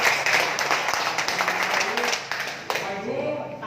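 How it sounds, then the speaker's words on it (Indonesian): A seminar audience breaks into lively applause, dense clapping filling the room with a brief dip near the end before it swells again, mixed with some crowd voices and background noise. "Tepuk tangan yang meriah."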